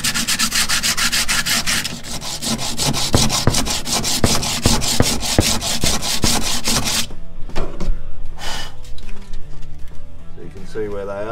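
Loud, steady back-and-forth sanding scrapes across the rust-repaired left rear lower quarter panel of a TA22 Toyota Celica to expose spot welds, a rapid rhythmic rasp that stops abruptly, followed by scattered metallic clatter and handling noise.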